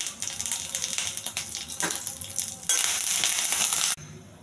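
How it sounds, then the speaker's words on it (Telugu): Curry leaves frying in a little oil, a close crackling sizzle with stirring taps that swells into a loud, dense hiss before cutting off abruptly. "కొద్దిగా నూనె అండి. కరివేపాకు బాగా వేగాలి."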